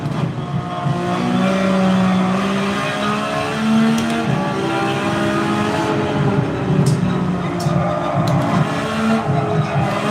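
A GT3 race car in a racing game on the Trial Mountain circuit, its engine revving and rising in pitch through gear changes, loud and steady with a brief tire squeal.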